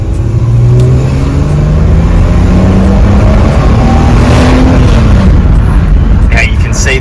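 A car floored from a near standstill in a hard acceleration test, engine roaring loud and close as the pitch climbs steadily through long gears, with road and wind noise building.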